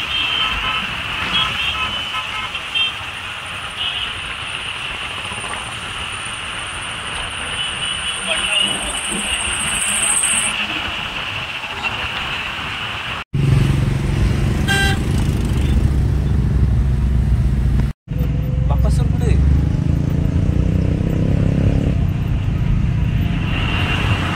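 Road traffic as vehicles leave after an event near Shelu, a continuous near rumble of engines and motorbikes with brief horn toots, people talking over it.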